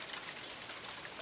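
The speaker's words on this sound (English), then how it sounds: "when the first cold drops of rain hit my windshield" Cold raindrops hitting a car windshield during a rainstorm: a soft, dense, steady patter of drops, faint and even throughout, with no voices.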